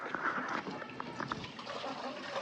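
Water splashes and trickles softly as it is poured into a container for birds on a sunny day, a faint, close, continuous liquid sound with scattered drips.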